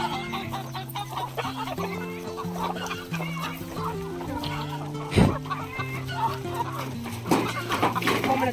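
Chickens on a Maharashtrian farm cluck steadily through the clip, close and fairly clear, over a backdrop of melodic background music.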